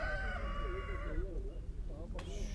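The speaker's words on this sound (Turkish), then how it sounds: "Şöyle horozlar var." Roosters crow at a poultry market, one long wavering cock-a-doodle-doo followed by a shorter crow, with chatter and market noise underneath.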